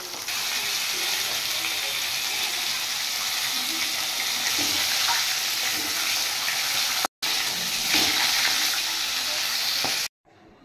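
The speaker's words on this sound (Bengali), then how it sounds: "তেল গরম হয়ে গেছে, এবার আমি মাছগুলো ফ্রাই করে নেব" Fish sizzles loudly in hot oil in a wok, a dense continuous crackling hiss close to the microphone that briefly cuts out and then returns.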